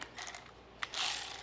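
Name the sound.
ratchet with 8mm socket on mower deck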